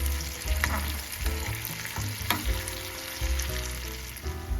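Onion fries in melted butter with a spoonful of tomato paste for mercimek köftesi. A dense, continuous sizzle runs throughout, with occasional stirring scrapes. No one speaks.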